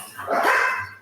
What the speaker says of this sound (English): dogs everywhere